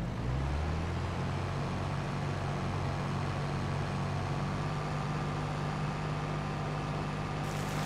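A mulcher stump grinder machine from Farming Simulator 22 runs with a steady, loud engine drone and low rumble that holds constant throughout, with no talking.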